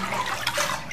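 Water poured into a vat of straw pulp during hand papermaking, a brief splashing, gushing pour, close and moderately loud.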